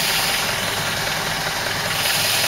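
A Land Rover Series engine fitted with an SU carburettor idles steadily up close, running slightly rich, its even mechanical drone filling the moment without speech.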